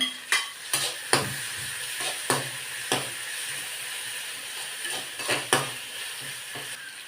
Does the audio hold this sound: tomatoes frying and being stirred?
yes